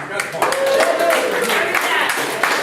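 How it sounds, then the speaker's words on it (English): An audience at a comedy roast bursts into applause and clapping that holds steady for a few seconds, with voices mixed into the noise. "a round of applause for Andrew Van for setting this up"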